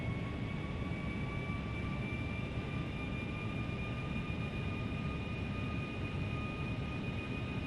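Boeing 757 jet engines in Flight Simulator X, a steady broadband roar with two sustained whining tones, constant and moderately loud throughout with no talking.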